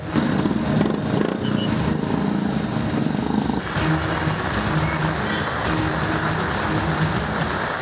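Steady, dense downpour of heavy rain in Bengaluru hissing across the whole clip, loud and close, with no voices.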